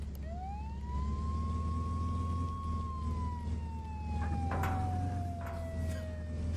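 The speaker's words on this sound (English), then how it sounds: "Do I turn my siren on?" Police siren in the video game Flashing Lights, a single long rising-then-slowly-falling wail held steady and loud over a low engine rumble, with faint extra tones and a few brief clatters.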